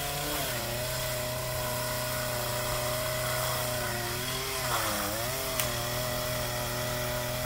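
A chainsaw cuts through a dried-up agave stalk with a steady, loud two-stroke drone that dips briefly in pitch partway through as the blade bogs in the wood, with no voices.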